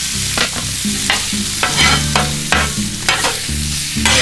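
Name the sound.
deer steak searing on a 28-inch griddle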